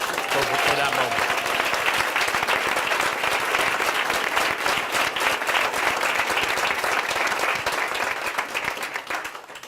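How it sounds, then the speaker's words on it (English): Loud, sustained applause from a rally crowd at a campaign-style event in Arizona, steady dense clapping filling the whole stretch before easing slightly at the end, with faint voices mixed in. "And I want you all to give him a round of applause"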